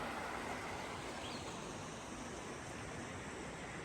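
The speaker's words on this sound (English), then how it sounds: "This is the water coming from our spring, and other water that's flowing from other creeks comes in right here." Water from a spring and several creeks flowing together on a Green River hike, a soft, steady broadband rush that stays even throughout, faint and uninterrupted with no voices.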